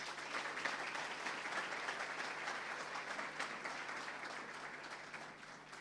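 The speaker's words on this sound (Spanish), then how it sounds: "a quien recibimos con un fuerte aplauso" Warm audience applause welcoming a speaker at an agricultural congress, a steady dense clapping that holds evenly throughout at a moderate distance.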